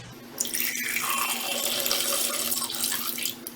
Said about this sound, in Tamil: இது நல்லா கொதிக்கிற தண்ணி.